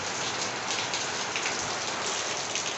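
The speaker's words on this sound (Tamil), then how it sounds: "நல்ல மழை." Heavy rain pouring down in Chennai, a dense steady hiss of drops drumming on surfaces, loud and continuous with no pauses.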